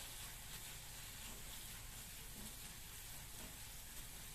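Onions sautéing in a pan with turmeric and chopped coriander for a spicy potato sandwich, giving a steady, close sizzle and frying hiss throughout, with no talk.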